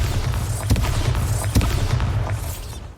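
Repeated low booms from spell blasts in a Harry Potter-style video game, with two sharper thudding impacts standing out over a constant rumbling bed of game sound, loud and near.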